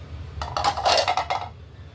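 Metal cooking pots being handled, with a short burst of clinks and clattering as they knock together, close by over a low background hum.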